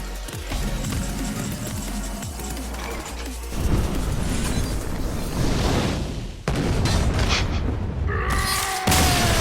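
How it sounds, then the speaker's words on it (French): Explosion effects from the Hearthstone card game play as a chaotic run of booming blasts, crashes and mechanical clatter, loud and layered with sudden shifts between bursts. "Ah, l'explosion quoi."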